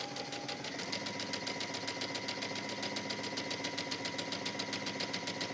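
A sewing machine stitches a rolled hem on a wrap dress, running at a steady, rapid rhythmic whir with a constant motor hum, close and uninterrupted throughout with no voices.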